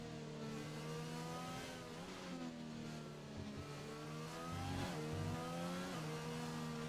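A McLaren Formula 1 car in a racing video game, on soft tyres, holds a high, steady engine whine with gear shifts and revs rising and falling, continuous and close with no voices.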